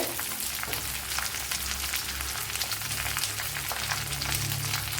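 Sliced onion frying in a pan of oil with garlic and ginger, a steady, dense sizzle with crackling pops, close and continuous throughout, no voices.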